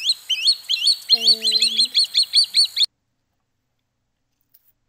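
Swallow-tailed kite calling, a rapid series of high, thin whistled chirps repeated about a dozen times in quick rhythm, clear and prominent, with a brief low voice partway through before it cuts to silence.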